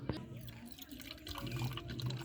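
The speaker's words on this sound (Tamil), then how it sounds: "தண்ணி எடுத்து நல்லா ஊற்றிக்குவோம்." Water is poured into a container while lemon juice is being made, a soft uneven trickle and splash heard close up at low volume.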